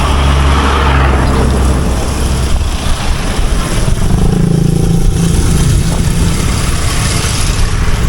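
A tuk-tuk used as a mobile grocery shop drives past around a village, its small engine droning and buzzing loudly and steadily throughout with no talk.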